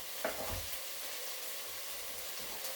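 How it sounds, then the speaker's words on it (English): A vegetable base sautéing in a pot gives a steady, close sizzle and frying hiss, with a few soft stirring bumps near the start and no voices. "I think our base has sauteed enough here"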